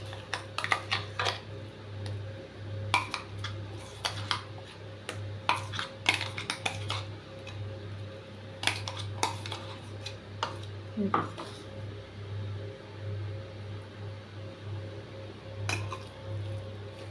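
Lentil paste is worked into grated pointed gourd in a bowl for pakora, with quiet soft squishing and scattered sharp clinks of a utensil against the bowl, coming in short bursts with pauses.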